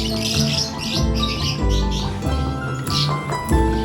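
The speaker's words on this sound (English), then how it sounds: "let's go outside and we will visit the cage of our African lovebirds" African lovebirds chirping in their outdoor cage on a farm, a dense chorus of bright, rapid tweets and squeaky calls, close and loud.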